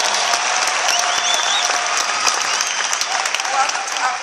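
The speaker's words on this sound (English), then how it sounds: "let's give a round of applause to our friends who just joined our business" An audience at a business presentation in San Antonio, Texas bursts into sustained, dense applause to welcome new business partners, a steady wash of clapping that holds evenly throughout.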